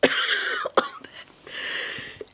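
A few sharp coughs from a person with COVID-19 break out close by, one after another, separated by short breathy pauses.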